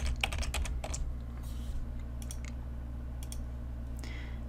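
A short burst of keystrokes on a computer keyboard, crisp close clicks followed by a few scattered taps, with a low steady hum underneath and no talking.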